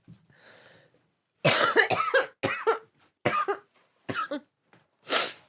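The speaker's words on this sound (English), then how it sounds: "I'm sorry to everyone I gave this cough to." A run of about six harsh, close coughs comes in uneven bursts after a faint murmur at the start, each cough sharp and separated by short pauses.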